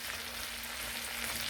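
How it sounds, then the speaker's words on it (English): Shrimp fry in a pot with a steady, dense sizzle and crackle, close and continuous throughout the short stretch, with no voices. "So let's get these in, fry it up."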